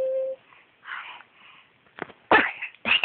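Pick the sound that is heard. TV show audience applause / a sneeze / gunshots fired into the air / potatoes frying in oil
a sneeze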